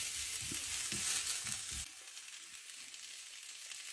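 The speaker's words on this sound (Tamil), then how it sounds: "ஒரு மேசக்கரண்டி அளவு மாசி கருவாடு அதையும் போட்டு இதோட நல்லா வதக்கி விடுவோம்." Dried Maldive fish and flat beans sautéing in a pan for a Jaffna-style curry, a steady close sizzle with a few soft stirring knocks early on, the frying hiss continuing alone after the stirring stops.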